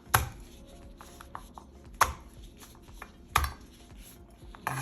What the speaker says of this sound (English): The garlic, we're just gonna smash it one time